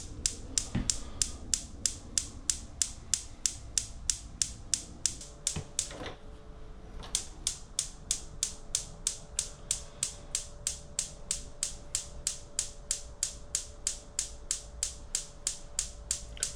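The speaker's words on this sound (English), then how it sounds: "if you pump them a few times, the gas then comes through" Hand pump pushing gas through pipes, a fast, evenly spaced train of sharp mechanical clicks that briefly pauses and then resumes, steady and fairly close with no talk.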